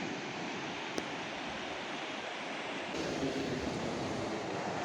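Open sea waves washing onto a Spanish shore, a continuous broadband surf roar at moderate distance with a slight swell in level partway through, no talk.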